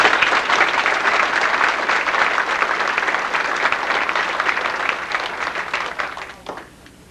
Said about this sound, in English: What a round of applause for you.